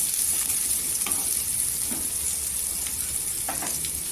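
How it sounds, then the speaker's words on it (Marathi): Chopped onions sizzling in hot oil in a pan as they fry toward golden, a steady loud crackling hiss with occasional stirring clinks, no voices. "कांदा एकदम जालायचा नाही गोल्डन करायचं आहे"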